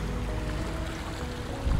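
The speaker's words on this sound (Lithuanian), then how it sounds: "Jūra čiut banguotesnė." Sea waves at a coast form a steady, soft wash of noise, with a slightly louder surge at the very end and no talking.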